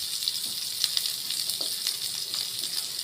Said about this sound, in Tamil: பொன்னிறமாக வர வரையில் நல்லா வதக்குங்க.